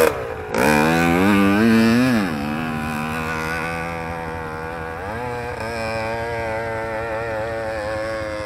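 A Kawasaki KMX 125cc motorcycle on a bentonite clay hill climb, its engine revving up sharply near the start, dropping back, then holding a loud, steady, droning pitch with another brief rise partway through.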